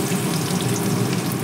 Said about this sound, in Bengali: এবার পেঁয়াজটা একটু ভালো করে ভাজা ভাজা করে নেব